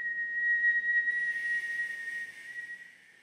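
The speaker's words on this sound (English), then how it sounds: "So start by whistling." A person whistles one steady, clear tone held for several seconds, close and fairly loud, with a faint higher overtone joining partway through before it slowly softens.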